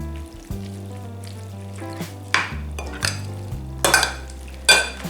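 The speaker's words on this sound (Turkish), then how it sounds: "Şimdi bu zeytinyağıyla sarımsak sirke karışımının içine döktüm." Roasted peppers are tipped into a mixture of olive oil, garlic and vinegar and stirred. Wet squelching and sloshing sounds are punctuated by clinks of a utensil against the dish, close and moderately loud.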